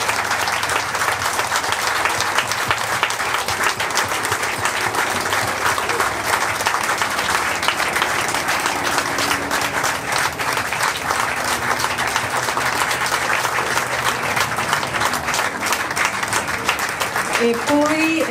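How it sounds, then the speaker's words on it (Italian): Sustained audience applause honoring a person at a Ducati 916 owners' gathering with a guest, dense steady clapping filling the room for the whole stretch, with a voice briefly surfacing near the end. "vorrei dedicargli un applauso"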